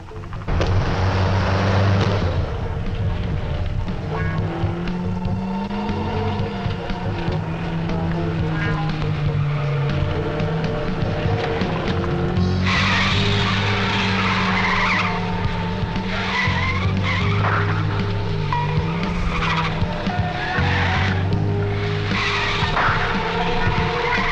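An old car races along at speed, its engine droning loudly while tires squeal and skid repeatedly, the screeches rising and falling over the roar, with no voices heard.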